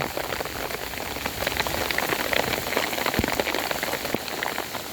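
Heavy rain falls steadily on a garden home beside a pond, a dense, even patter of drops with scattered sharper hits, alone without voices.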